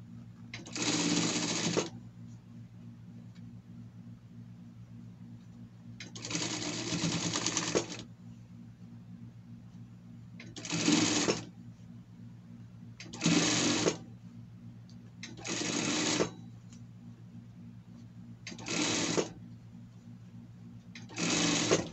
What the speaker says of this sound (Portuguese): aí você faz na overlock certinho ali